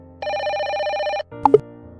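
A mobile phone rings with an incoming call in an Indonesian horror cartoon: a sustained electronic ringtone lasting about a second, then a brief pause and two sharp higher beeps.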